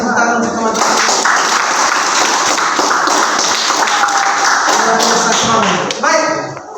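A group of participants in a classroom or training session claps together, a loud close burst of clapping with thumpy taps mixed in, surrounded by brief voices at the start and end.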